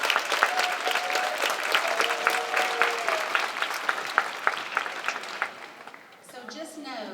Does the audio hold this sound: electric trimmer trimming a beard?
no